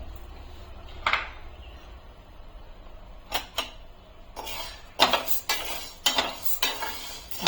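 Sabudana (tapioca pearls) being dry-roasted in a pan, with a spoon scraping and rattling the pearls in irregular bursts, close and fairly loud over a light background hiss.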